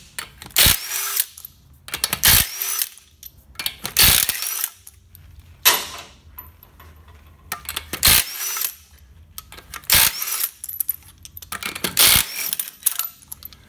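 A power tool spins wheel nuts off a Toyota Land Cruiser's wheels during a front brake pad job, firing in about seven loud, close ratcheting bursts of roughly half a second each, separated by quieter pauses.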